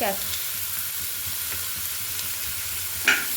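Grated carrots hit hot oil in a pan with turmeric, giving a steady loud sizzle and hiss that holds throughout, with a faint stir clatter near the end.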